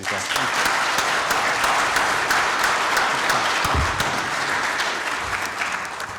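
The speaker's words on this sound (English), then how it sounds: "please join me with a round of applause for these folks" Audience applause fills a room at a county bankers and brokers economic forum, a steady dense wash of clapping lasting several seconds and tapering slightly at the end, with no talk over it.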